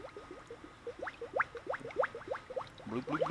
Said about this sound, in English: Notice all the bubbles getting pushed out as the coolant goes in.